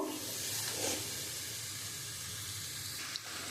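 Lote fish with spices fries in a pan over a high gas flame, giving a soft, continuous hiss and sizzle at low volume, with a faint click near the end.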